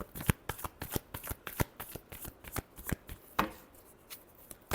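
A deck of tarot cards is shuffled during a reading, a rapid series of crisp riffling slaps and taps in an uneven rhythm, close and clear with no talk over it.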